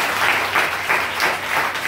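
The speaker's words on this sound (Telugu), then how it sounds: "గట్టిగా చప్పట్లు కొట్టి దేవునికి స్తోత్రం" A church congregation at a Sunday service claps loudly together, a thick continuous wash of applause with gentle pulsing surges and no voices on top.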